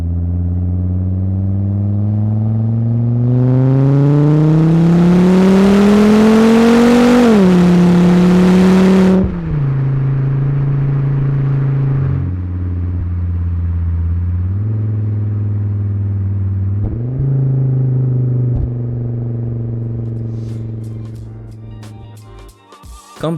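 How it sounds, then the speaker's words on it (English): A Volvo P2 five-cylinder engine with a catback exhaust revs up with a rising, throaty warble, then settles back into a smooth, steady idle purr with occasional small blips. "Even before I got my catback, it still made a sweet purr that is immediately recognizable for those who really know the car"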